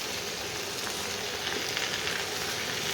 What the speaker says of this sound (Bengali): এই সব মশলাগুলোকে যা যা দিয়েছি সবগুলোকে একটু ভাজা ভাজা করে নিতে হবে